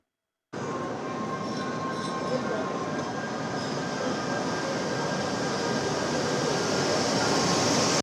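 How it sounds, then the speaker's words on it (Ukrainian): The morning passenger train from Lviv rolls into Zaporizhzhia railway station with a steady, broad rumble and rail hiss that holds level and close after a brief silence. "Залізничний вокзал Запоріжжя перше прибуття ранкового потяга зі Львова."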